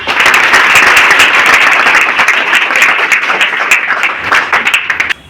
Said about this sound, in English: So for this clap for yourself,